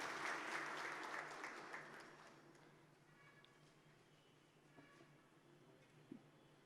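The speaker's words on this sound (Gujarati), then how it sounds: "જોરદાર તાળીઓની નાદ વધાવી" An audience at an event in Surat applauds, the clapping loud at first and then fading to a scattered, faint patter.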